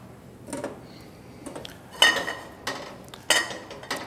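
A small sauté pan knocks and clinks against a stove and utensils in a kitchen, a handful of sharp metallic taps and rattles scattered over a few seconds against a quiet background.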